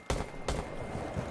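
Two sharp gunshots from a firearm in the tactical shooter Rainbow Six Siege, spaced about half a second apart, loud and close, followed by low game ambience.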